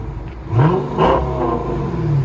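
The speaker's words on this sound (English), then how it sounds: "Listen to that Scat Pack." A 2018 Dodge Charger 392 Scat Pack with a 6.4L HEMI and dual exhaust fitted with a Jones JFP setup, revving close by in two loud surges over a steady rumbling idle.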